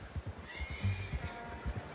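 Horse neighing in Red Dead Redemption 2, a clear whinny close by, with soft hoof clip-clops.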